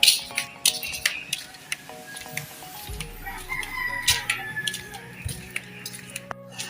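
Chickens cluck faintly at a distance, mixed with scattered ticking and light background noise.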